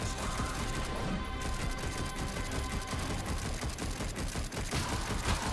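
Rapid bursts of gunfire in Darksiders Genesis crackle almost continuously, dense and clattering like a sustained barrage of shots, with no talking.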